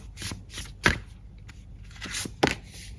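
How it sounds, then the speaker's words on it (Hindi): Tarot cards being drawn and shuffled by hand during a weekly horoscope reading, giving soft papery riffles and two sharper card slaps, close and fairly quiet with no talking. "कुछ एक्स्ट्रा कार्ड्स यहाँ से निकालते हैं"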